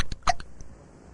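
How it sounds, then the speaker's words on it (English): Hiccups from a cartoon patient in The Simpsons, heard as a few sharp, close vocal jolts in quick succession, loud and alone. "This is the worst case of hiccups we've ever treated."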